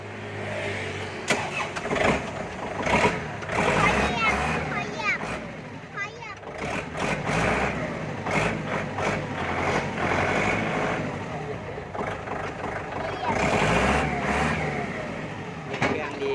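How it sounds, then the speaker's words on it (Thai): Kubota L4708 tractor diesel engine cranking over and catching, then running steadily at close range with a rough mechanical rumble, while people talk over it throughout. "เดี๋ยวป้าสตาร์ทฟังเสียงให้ดู ค่ะ สตาร์ทบิด"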